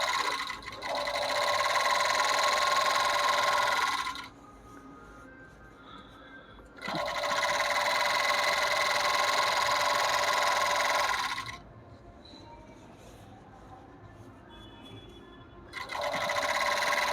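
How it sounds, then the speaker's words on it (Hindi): An overlock (interlock) sewing machine being repaired stitches fabric in two long, loud, steady whirring bursts, with a quieter pause and a fainter hum between them and a third burst starting at the end; no one talks. "फिर से एक बार सिलाई करके दिखाता हूँ।"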